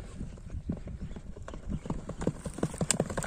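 A white horse trots on firm ground, its hooves clip-clopping in a quick, even rhythm close by. A faint voice can be heard in the background.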